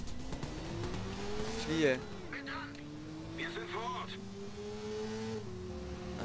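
A car in the Watch Dogs video game accelerates, its engine pitch climbing and shifting through gears with a brief tire screech, while a voice speaks over the driving.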